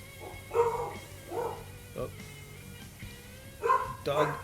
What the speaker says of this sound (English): Dogs are barking, so Mrs. First might be home